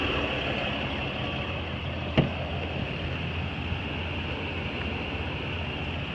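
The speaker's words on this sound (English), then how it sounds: "And with the truck running," A 2020 Ram 3500 pickup idles at a steady low rumble, even and continuous, with one brief sharp click partway through.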